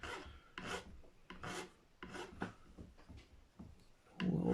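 A file rasping over sharp nut corners and fret ends on a Gibson SG guitar during a setup, quiet repeated back-and-forth strokes close up in an otherwise still room.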